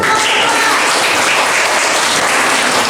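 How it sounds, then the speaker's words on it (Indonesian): A classroom of students claps for group 2, a dense, steady burst of applause close by that holds evenly from start to finish with no talking. "Oke, kita kasih tepuk tangan dulu."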